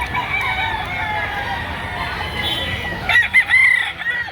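Roosters crowing at a Saturday chicken market in Lipa City, Batangas, amid a dense background of birds and market chatter, with a few sharp clucks and crows standing out near the end.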